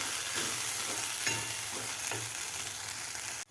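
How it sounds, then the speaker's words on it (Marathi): A masala paste of tomato, onion and ginger-garlic sautés in a pan for a Marathi tomato amti, giving a steady, close sizzle with occasional stirring scrapes and no talking. "हलक्या कांद्या आणि अद्रक लसूणच्या पेस्टमध्ये व्यवस्थित टोमॅटोचा कच्चेपणा जाईपर्यंत आपल्याला हे वाटण परतून घ्यायचं आहे।"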